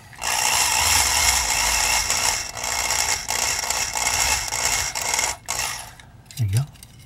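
A number 50 drill bit grinds a hole in a Hot Wheels Audi Quattro toy car wheel continuously at close range with a rattling mechanical texture, easing off briefly near the end.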